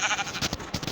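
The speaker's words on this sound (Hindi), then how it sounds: "बकरी पता नहीं कहाँ से आ जाती है।" A goat in a blocky sandbox video game gives a short bleat, bright and close, in one brief burst with no talk over it.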